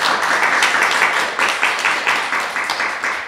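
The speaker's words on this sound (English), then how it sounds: "Great, let's clap." Audience clapping for a 9-year-old boy poet, a lively mix of many hands that settles into a rhythmic, evenly spaced beat, fairly close and loud.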